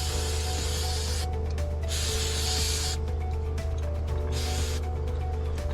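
Carb cleaner sprays onto an adjustable wrench in hissing bursts, loud and close, with short pauses between them and a steady background hum underneath.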